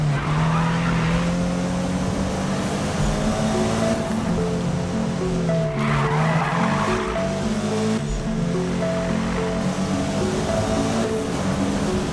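Cars skidding during a Need for Speed video game race, a steady engine drone with rising and falling tire squeal and swishing skid noise running throughout, loud and continuous.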